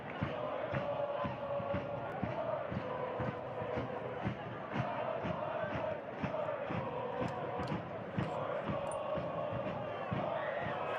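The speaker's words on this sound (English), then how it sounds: "As the crowd is singing their score a goal chant, the players nearly oblige." Soccer fans at an Athletic Club Boise vs. Sarasota Paradise match chant together in a steady, rhythmic, pulsing chorus that carries through the stadium, loud and continuous from start to finish.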